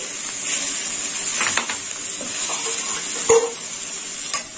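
Chopped green chillies and mixed vegetables with ground pepper and cumin fry in a pan, a bright steady sizzle with intermittent spatula stirs and a clink or two against the pan, close and fairly loud with no talking.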